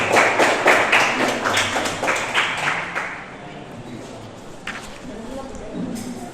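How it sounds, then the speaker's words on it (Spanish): A church congregation claps during a Spanish-language worship service, with loud, rhythmic clapping and voices for about three seconds before it fades into quieter murmuring and scattered sounds. "Denle un fuerte aplauso al Señor."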